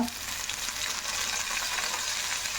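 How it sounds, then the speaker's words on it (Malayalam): Onion and curry leaves frying in hot oil for a Kerala-style fish head curry, a steady close crackling sizzle running unbroken from start to end with no talk. "ഇനി നമുക്ക് നമ്മുടെ ഉള്ളി ഇട്ട് കൊടുക്കാം. കറിവേപ്പില,"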